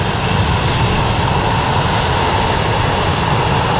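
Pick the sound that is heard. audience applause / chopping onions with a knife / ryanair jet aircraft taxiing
ryanair jet aircraft taxiing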